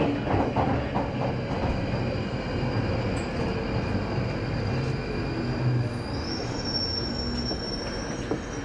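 A London Underground train pulls into Charing Cross station with a steady rumbling roar of wheels on rails and rising high metallic squeals of braking as it slows, loud and close from inside the carriage.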